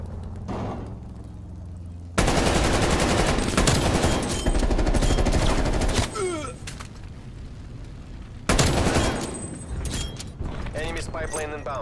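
Heavy automatic gunfire from hostile sentry turrets in the shooter game Call of Duty Black Ops Cold War, loud sustained bursts broken by short pauses, with radio voice announcements over the top.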